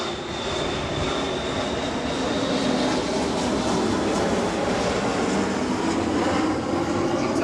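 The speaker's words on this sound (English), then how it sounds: "You can tell time by these planes." A loud, steady aircraft engine roar fills the whole stretch, a continuous broadband rumble from a plane passing low overhead, with no voices.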